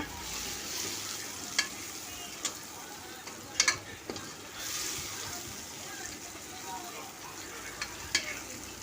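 Chopped mint goes into a hot pan for a non-veg Sunday dish, giving a low steady sizzle and soft stirring scrapes with a few sharp spoon clicks, heard close up under occasional speech.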